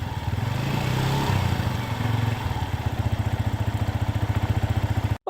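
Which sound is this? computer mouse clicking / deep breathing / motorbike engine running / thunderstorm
motorbike engine running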